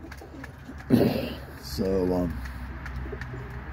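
Homing pigeons in a loft, including a molting blue bar homer, give a brief low coo followed by a longer soft warbling coo, close by under a quiet room hum, with a single spoken word near the start.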